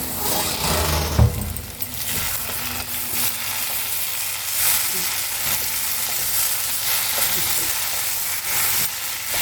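A hyacinth bean and shrimp curry sizzles in a pan as fried spices are added, a steady close hiss with stirring scrapes and one sharp clank near the start, and no voices.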